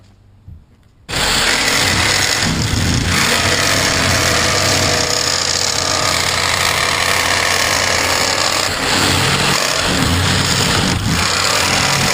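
A jigsaw fitted with a Bosch 13-TPI plexiglass T-shank blade saws through a plastic car hood skin, starting abruptly after a brief quiet moment and then buzzing loud and steady close by, with rough rattling vibration throughout.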